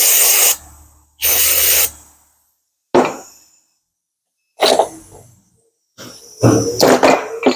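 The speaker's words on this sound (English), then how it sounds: "What I do is I'm just gonna spray it, some brake cleaner." Brake cleaner sprayed from an aerosol can onto a rusty front brake caliper bracket of a Subaru Impreza, in five loud, close hissing bursts separated by short silences, with the final burst longer and sputtering.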